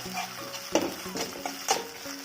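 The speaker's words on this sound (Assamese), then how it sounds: "এইখিনি দি মই ভালদৰে ভাজি ল'ম যাতে নহৰু গোন্ধটো গুচি যায়" Ginger and garlic paste frying in oil in a wok, a continuous close sizzle broken by a few sharp scraping strokes of a spatula as it is stirred.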